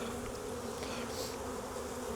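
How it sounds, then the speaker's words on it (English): Honey bees buzz as they are shaken off a hive frame during swarm-prevention work: a dense, steady, close droning hum that holds unbroken the whole time. "I'll shake these bees off."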